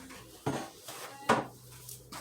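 Kitchen dishes pulled out of a cabinet, two sharp clattering knocks of crockery with a faint cutlery jingle, close and fairly quiet, with no talk.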